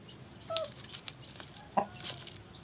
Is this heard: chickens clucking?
yes